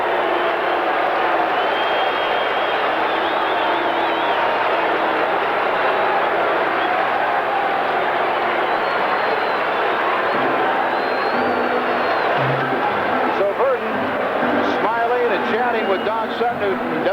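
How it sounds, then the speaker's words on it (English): Large baseball crowd at Dodger Stadium on its feet, a broad continuous roar of cheering and applause heard over a radio broadcast, with an announcer talking over it and a few sharper claps near the end. "the crowd loving it. They're on their feet in mass here at Dodger Stadium"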